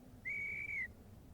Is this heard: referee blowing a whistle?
yes